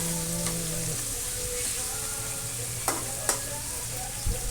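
Beef frying in hot oil in a pan hisses with a steady broadband sizzle, broken by a few sharp scrapes and knocks of stirring; close and moderately loud, with no talk over it.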